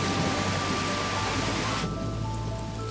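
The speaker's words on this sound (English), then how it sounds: "As feared, the hail quickly turns into a downpour." Heavy rain pours down steadily after a hailstorm, a dense continuous hiss that is loud at first and softens slightly partway through, with a faint low hum beneath.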